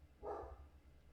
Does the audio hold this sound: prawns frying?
no